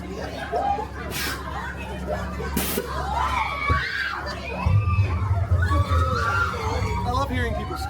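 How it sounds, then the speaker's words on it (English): Crowd of people screaming and shouting on what seems an amusement ride or tour, a busy babble of overlapping voices with brief louder shrieks, fairly close and continuous. "I love hearing people scream."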